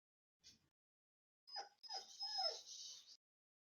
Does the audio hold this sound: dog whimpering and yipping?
yes